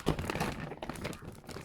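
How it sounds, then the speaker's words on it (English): A plastic IKEA storage bag that closes over is handled up close, with brief crinkling and crackling rustles that bunch near the start and then taper off, and no speech. "plastic bag thing that closes over"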